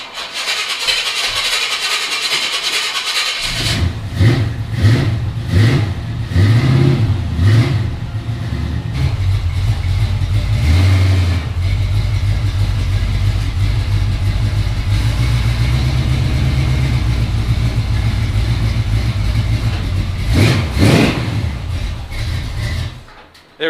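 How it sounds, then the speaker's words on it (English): A 1976 GMC Jimmy truck starts up and revs as it pulls into a garage, the engine rumbling loud and close with rises in pitch and a steady idle-like drone, ending abruptly. "let's pull the truck into the garage"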